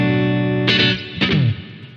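An electric guitar played through a gigging amp and effects setup, with sustained distorted chords and two sharp strummed attacks that ring out and decay with some reverb.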